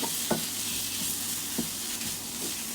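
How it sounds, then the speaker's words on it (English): Minced meat and garlic frying for chili con carne, a steady close sizzle running throughout with a few soft scraping stirs of the spoon through the pan, no talking. "So garlic in, our meat in. We're going to break this up, mix it around"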